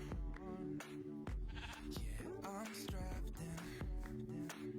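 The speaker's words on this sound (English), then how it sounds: "Sheep." Sheep in a video game bleat repeatedly, a run of close, quavering baas following one after another at a low, quiet level.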